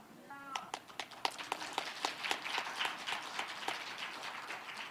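Crowd of listeners clapping during a political speech, dense applause swelling in after a brief moment of voice and continuing steadily, loud and close throughout.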